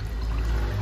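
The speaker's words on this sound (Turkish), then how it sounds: "motor yağımızı da boşaltıyoruz" Engine oil drains from a BMW X5 3.0 diesel in a steady low pour, a continuous close-up gush with no voices.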